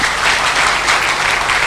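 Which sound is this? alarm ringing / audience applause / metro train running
audience applause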